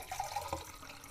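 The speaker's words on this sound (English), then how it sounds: "So I'm going to pour out the developer." Pyro film developer is poured out of a container in a short, quiet trickle of liquid splashing for about a second, with no talk over it.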